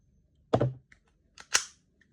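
WE G17 Gen5 gas blowback airsoft pistol with TTI internal upgrades firing BBs: two sharp, close cracks about a second apart, with faint mechanical clicks between and no talking.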